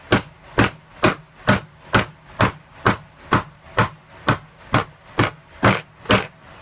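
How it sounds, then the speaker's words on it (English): Evenly spaced hammer blows driving a coupler down while making a sprue extender, about a dozen sharp metallic strikes in a steady rhythm, loud and close with no talking. "You take another coupler, you put that on there, you hammer it down"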